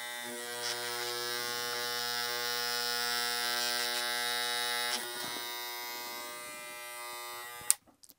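A Stylecraft Saber II electric hair clipper runs with a steady high-pitched buzz and hum for several seconds, then switches off with a brief click near the end.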